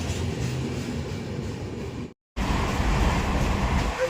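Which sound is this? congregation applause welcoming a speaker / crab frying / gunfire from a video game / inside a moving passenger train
inside a moving passenger train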